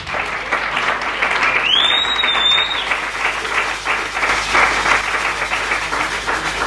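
Church congregation applauding together, dense continuous clapping filling the room at close range, with a brief whistle or shout rising above it partway through.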